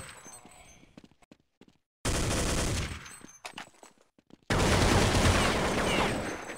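Bursts of automatic rifle fire from a Counter-Strike match on the de_train map, two long loud sustained volleys separated by scattered single shots and footsteps, close and unaccompanied by talk.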